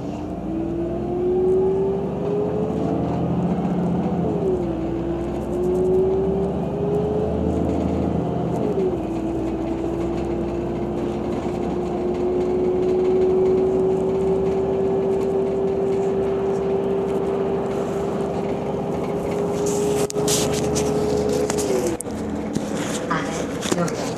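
Interior of a Heuliez GX 137L city bus on route D in Montluçon, a continuous engine whine that rises and shifts in pitch as the bus pulls away and cruises, with rattles near the end.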